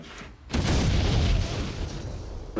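A grenade detonates in a MythBusters test where a stunt dummy takes the blast: one sudden, loud, close boom that roars on as a heavy sustained rumble for about two seconds, with a fresh burst near the end.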